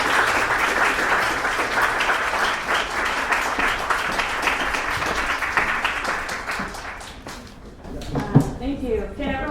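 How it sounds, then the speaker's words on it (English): Audience applause at a women's day celebration, a dense, steady roar of many hands clapping for several seconds before tapering off, with a voice and some stray claps emerging near the end. "So please give her a round of applause."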